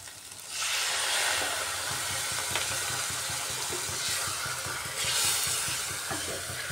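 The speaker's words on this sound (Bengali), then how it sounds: "এবার সামান্য জল দিয়ে দিচ্ছি।" Water splashes into a pan of dry-fried egg kosa, setting off a loud, close sizzle that settles into a steady bubbling hiss with a brief flare of spitting near the end.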